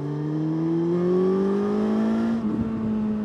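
A Suzuki GSX-S1000 GT sport-touring motorcycle under throttle, its engine note climbing smoothly and steadily as it accelerates. The sound is loud and continuous, then settles briefly near the end.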